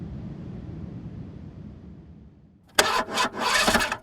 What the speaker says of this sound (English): My car just sounds like it's dying when it's starting, but then it runs pretty smooth